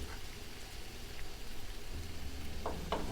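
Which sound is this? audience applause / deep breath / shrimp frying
shrimp frying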